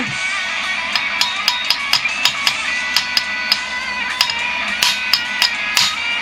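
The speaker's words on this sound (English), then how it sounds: "I think I hit right about there, and it broke right behind the hammer" A hammer strikes stone to spall off shards, sharp ringing knocks repeating in an uneven steady rhythm, close and loud, roughly a dozen blows over a low background hum.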